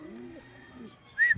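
A pigeon coos softly and close by in a short, low, rounded call, with faint background noise and a brief louder sound at the end.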